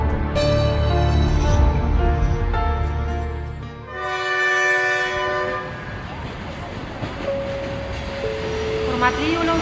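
A passenger train pulls into a station on the Andijan–Tashkent route with a heavy rumbling roar, and a long, loud sustained horn sounds over the rolling wagons, a second horn note following later.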